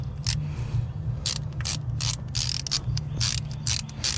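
Quick bursts of ratcheting clicks repeat steadily while screws are tightened on a fuel injector armature plate held by a spacer plate, close and fairly clear over a low mechanical hum.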